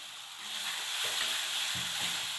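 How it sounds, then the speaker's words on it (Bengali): Tomato paste goes into a hot pan with ground coriander and sets off a loud, continuous close-up sizzle that swells within the first second and holds steady, with faint stirring knocks underneath. "আমার টমেটো আমি পেস্ট করে রেখেছি, সেই পেস্টটা দিলাম।"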